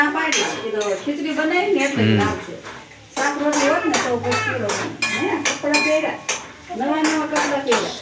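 Sheera stirred in a metal kadai, a spoon scraping and clinking against the pan in repeated strokes while people talk over it, a child among them.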